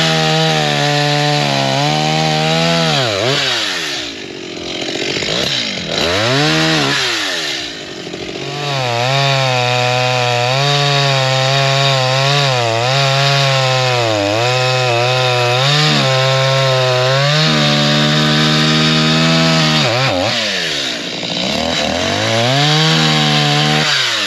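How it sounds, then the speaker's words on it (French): A newly bought chainsaw cuts wood, its engine loud and close, revving up and down repeatedly as the bar bites through the log for a long stretch. "Il a acheté une tronçonneuse, donc il faut qu'il essaye son nouveau jouet."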